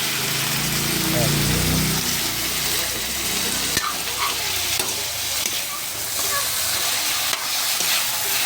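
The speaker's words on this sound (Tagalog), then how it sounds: "So ito na, gigisa natin mga lods natin chicken." Chicken sautéing with onion and ginger in a pan, a loud continuous sizzle and frying hiss with occasional utensil scrapes, close up, with a voice speaking early on over the cooking.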